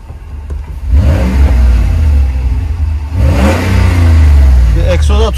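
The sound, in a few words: car engine revving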